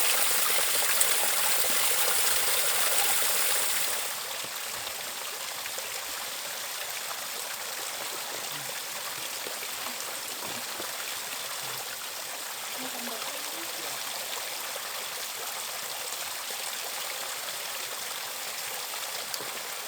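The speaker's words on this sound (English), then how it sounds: "Some fresh creek water for tonight." Mountain creek water flowing and trickling steadily on a California backpacking trail, loud and close at first, then quieter and more distant after a few seconds, with a continuous rushing wash throughout.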